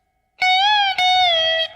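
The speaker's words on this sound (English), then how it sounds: "avoid notes clashing and sliding into one another" An unmuted, distorted slide guitar plays two notes that run together, the first sliding smoothly into the second without a clean break, both loud and sustained.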